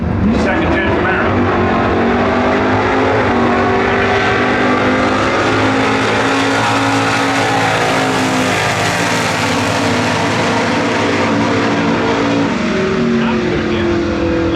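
A big-block second-generation Camaro drag racing in NHRA Winternationals Stock eliminator roars off the line and accelerates hard through its gears, loud and sustained, with announcer commentary running underneath.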